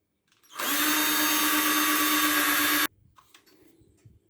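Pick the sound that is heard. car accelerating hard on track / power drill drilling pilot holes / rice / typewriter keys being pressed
power drill drilling pilot holes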